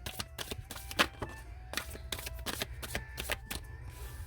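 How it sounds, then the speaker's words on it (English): Tarot cards riffled and shuffled by hand, a quick run of crisp flutters and snaps with several sharper slaps, close and steady without talk. "Every time I shuffle these cards, a whole bunch of them."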